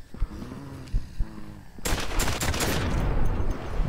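Automatic weapons fire in the zombie video game Dead Purge Outbreak: a few scattered shots, then dense, sustained rapid gunfire that fills the rest of the stretch, loud and close.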